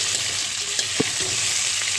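Potatoes frying in a pan for a vegetarian fennel paneer dish, a steady broadband sizzle throughout with a couple of brief spatula knocks near the middle, close and fairly loud with no talking.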